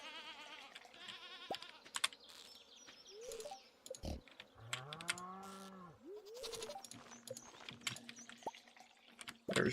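A goat bleating in the Stardew Valley video game, a few short wavering bleats between clicks and game sounds, fairly quiet overall.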